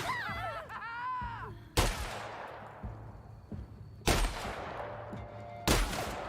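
Video game gunfire: three sharp, loud bursts spaced a couple of seconds apart, each trailing off into a reverberant tail, over a steady background hum, with a warbling tone near the start.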